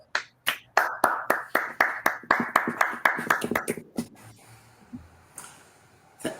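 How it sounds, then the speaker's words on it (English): Audience applause at the SPE 2021 Honors and Awards presentation: a small group claps in a fairly even rhythm for about four seconds, then the clapping thins out into a few stray claps. "Please give Gustavo and Brian a round of applause"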